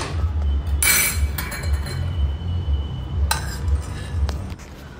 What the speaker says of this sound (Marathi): कुकर उघडून बघूयात।